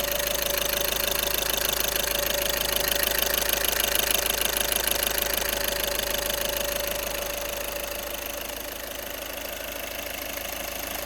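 A diesel Volkswagen Polo engine, just fitted with a replacement turbo, idles steadily and loudly up close with a rhythmic knocking clatter and a constant hum, easing slightly quieter near the end, with no voices.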